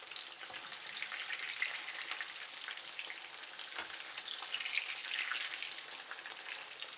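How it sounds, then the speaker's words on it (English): Eggplant pieces fry in hot oil with a steady, even sizzle and crackle that holds at a constant level throughout, no voices over it. "fry the eggplant pieces. Do it by half. Leave them 40 seconds."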